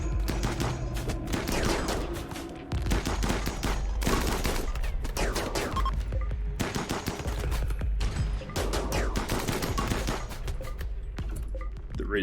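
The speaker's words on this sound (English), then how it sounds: "Turtle Sandwich is firing now." Dense, continuous gunfire from the video game RimWorld, with rapid overlapping shots and bursts like a firefight, loud and steady throughout with only a brief dip.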